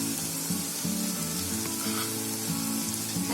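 Masala powder with gram flour frying in a pan, a steady close sizzle with soft periodic stirring scrapes, no voices.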